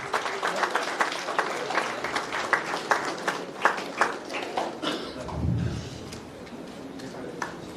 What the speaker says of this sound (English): So only the front row is clapping.